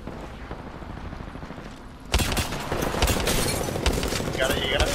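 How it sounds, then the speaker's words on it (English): Gunfire in the Apex Legends video game erupts abruptly about halfway through as a loud, sustained burst of rapid shots and impacts, following a quieter stretch of game ambience. "They're shooting at me."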